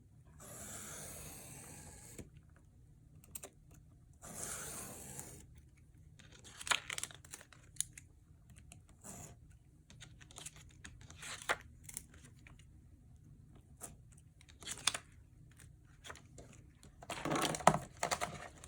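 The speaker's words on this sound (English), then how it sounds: "take our ruler and our knife. And we're going to cut." A craft knife drawn along a ruler to slice through altered-book pages for a junk journal, short scraping and tearing strokes in bursts with quieter handling between them, close and fairly soft.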